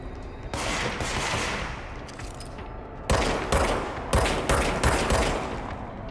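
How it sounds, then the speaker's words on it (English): Gunfire from the video game Control, starting as a sustained volley and then breaking into loud, closely spaced shots and bursts in the second half, sharp and near. "Who's shooting at me? Oh, I'm getting shot at."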